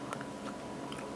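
Someone eats a forkful of pulled pork mac n cheese with white cheddar and a panko topping, giving a few soft, close chewing and crunching bites over a quiet background.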